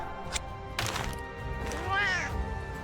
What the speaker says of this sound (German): So müssen Feline sein. Genauso. Freundlich und miauend.